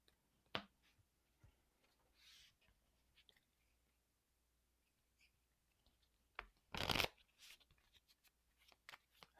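Arkham Horror cards are shuffled and handled on a quiet table with soft scattered clicks and rustles. A louder riffling burst comes near the end.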